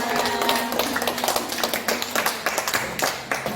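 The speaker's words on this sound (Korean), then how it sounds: "박수." A group at a church gathering after Mass claps, steady and close at first, then breaking into scattered, rhythmic hand claps that thin out toward the end.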